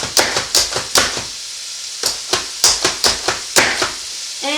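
A hand-operated twist food chopper cuts ingredients for beef stroganoff, producing a series of sharp, loud chopping thuds in quick irregular bursts, close and with no talking.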